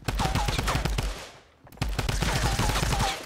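A compact SMG in Fortnite fires rapid, dense automatic bursts, with a short pause in the middle before the firing resumes, loud and close.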